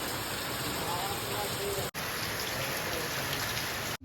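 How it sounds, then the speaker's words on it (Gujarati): Steady rain pouring down outside a pigeon coop, a dense, continuous hiss of drops hitting surfaces close by, with two brief dropouts and no voices. "જો વરસાદ તમને બતાવી દો, આવી રીતના વરસાદ શરૂ થાય જુઓ."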